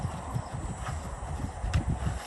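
Horse hooves thud in a round pen during free lunging, a soft, steady rhythmic clip-clop at moderate distance over a low, noisy background.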